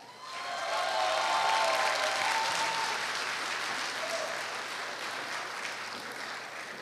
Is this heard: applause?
yes